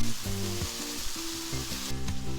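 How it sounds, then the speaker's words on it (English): Sausage browns in a pan for a breakfast casserole, giving a continuous soft sizzle that sits under prominent background music. "we'll brown the sausage"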